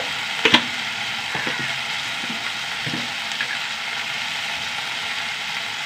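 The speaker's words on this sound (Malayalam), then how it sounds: "ഒന്നും കൂടി വഴണ്ട് വെക്കട്ടെ പുളികൾ ഇട്ട് കൊടുക്കാം" Spices and tamarind sautéing in a pan, a steady, even sizzle of frying with a couple of sharp clicks and light scraping near the start, close and continuous without any talk.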